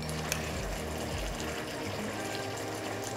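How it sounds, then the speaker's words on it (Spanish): Cold water pours steadily into cornstarch to dissolve it for a chicken recipe sauce, a close, continuous liquid rush with no speech. "hidratamos nuestra fécula de maíz con un poco de agua fría"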